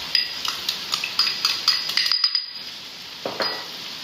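Chicken tossed with dry-roasted masala and chillies in a pan for a chicken dry roast, with steady scraping and clinking stirs of a spoon against the metal, close and moderately loud, plus a faint sizzle and a brief pause.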